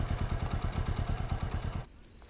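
A motorcycle engine runs close by with a steady, rapid pulsing idle for about two seconds, then cuts off abruptly, leaving near silence with a faint high tone.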